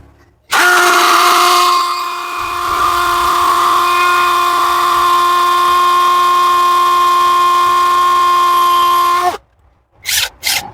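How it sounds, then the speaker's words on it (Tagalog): A brushless drill in hammer mode bores slowly into hard stone on its lowest speed, giving a loud, steady motor whine with a grinding rattle for about nine seconds, then stops. A couple of brief knocks follow. "So ayun, mabagal siya bumutas."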